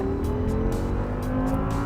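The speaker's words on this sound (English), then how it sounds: "jam your foot down very, very hard and accelerate the throttle" An Audi R8 with a V10 engine accelerating hard at full throttle: a loud, sustained, rising engine roar heard from inside the car, continuous for the whole stretch, with no talking.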